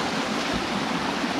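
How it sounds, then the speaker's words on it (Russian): Stream water flowing past trees and between stones near the Si Tho waterfall, a dense continuous rushing and gurgling close by with no voices. "Вот так вот ручьи льются мимо деревьев,"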